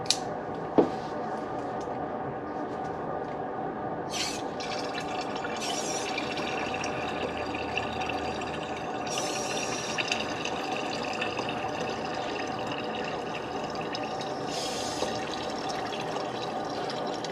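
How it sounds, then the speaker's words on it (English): Compressed air pushes fluid through the line of a Pontiac Solstice system, giving a steady, sustained watery gurgle and hiss for over fifteen seconds, with occasional louder surges and a sharp click near the start. "So what that compressed air is doing, it's pushing that fluid through."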